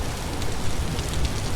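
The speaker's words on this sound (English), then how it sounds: "Yeah, it's still freaking raining." Rain pours steadily in the survival game Vintage Story, a dense, even hiss of falling water with no clear breaks.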